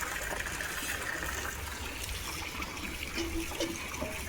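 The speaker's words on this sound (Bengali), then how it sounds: "যে কারণে তাড়াতাড়ি জল ভরে নিচ্ছে আমরা" Water runs steadily into pots and buckets at home, a constant soft splashing trickle heard from close by with no talk.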